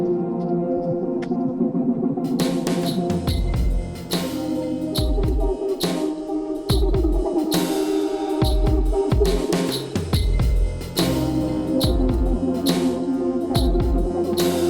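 Opening synth texture from a track, made with the Circle plugin: dense, evolving and heavily modulated, with layered sustained tones, shifting movement and rhythmic low pulses, loud and continuous with no talking.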